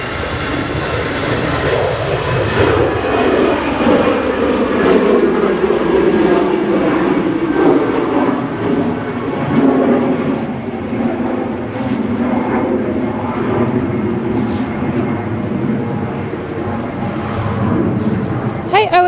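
An EasyJet Airbus A320 jet at Manchester Airport roars loudly and steadily, its engine pitch sliding downward as it passes, with people talking faintly under the noise.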